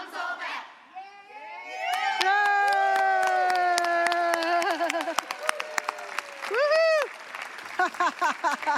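A group of children in a congregation shouts a drawn-out cheer together, followed by clapping and a few more sustained shouts, loud and close.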